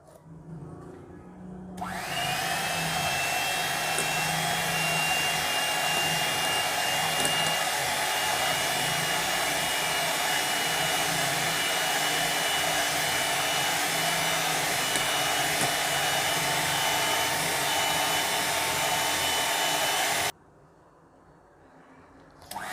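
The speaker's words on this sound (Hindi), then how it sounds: "एग बीटर को ऑन करूँगी।" An electric egg beater whirs steadily through cake batter for a hot milk butter cake, a loud continuous motor hum running for about eighteen seconds before cutting off abruptly, with no talking over it.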